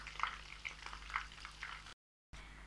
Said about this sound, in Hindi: इसी तरीके से सारा चिकन थ्रेडेड फ्राई कर लेंगे